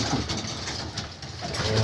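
Soft pigeon cooing in a noisy pigeon loft, low murmuring calls repeating over steady background hum.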